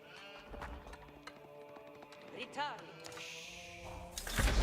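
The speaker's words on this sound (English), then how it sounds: "Sheep being sent here." Sheep bleating in the video game Age of Empires 4, a wavering bleat rising out of a busy mix of game sounds, thuds and clip-clop steps, with a louder burst of noise at the end.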